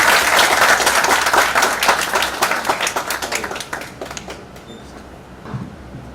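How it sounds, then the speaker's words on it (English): Audience applause welcoming a guest speaker at an interview-preparation session, a dense wash of many hands clapping that starts loud and steady and thins into scattered claps before fading out. "So let us all give a warm welcome to our prestigious guest of today, Mr. Zulfikar Ali Causer, with a huge round"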